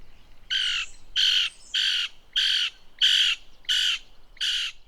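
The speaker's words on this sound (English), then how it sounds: "we actually have some sound of it in the wild." A Lewis's woodpecker in the wild gives seven harsh, raspy squawks at an even pace, each roughly half a second long with short gaps between. The calls sound fairly close and stand out clearly over faint background noise.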